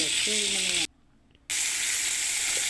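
Onion mixture for fish curry sizzling steadily in a pan, a continuous hiss broken by a short silent gap before the frying noise resumes.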